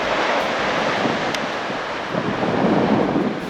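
Ocean waves wash at a beach seen from the cliff above, a broad continuous roar mixed with wind buffeting the microphone, swelling slightly toward the end with no speech.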